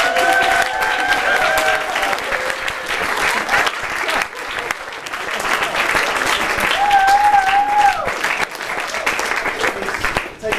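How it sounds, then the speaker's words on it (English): An audience gives a big round of applause to a guest on a show's season finale: steady, full clapping throughout, with a few whistles and cheers rising above it. "will you please give a big round of applause"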